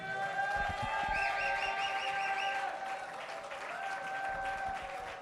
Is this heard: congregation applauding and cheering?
yes